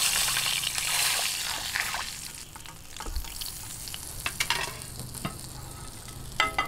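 Tilapia fries in a pan with a steady, moderately loud sizzle, broken by crackles and small pops that grow sharper toward the end; no one speaks.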